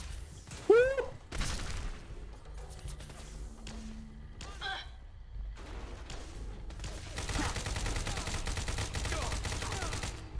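Gunfire in modded Fallout 4 comes as scattered sharp shots, then a longer stretch of sustained rapid firing, with players talking now and then.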